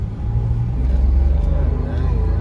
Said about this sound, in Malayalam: ആ വണ്ടി കേറണുണ്ട്,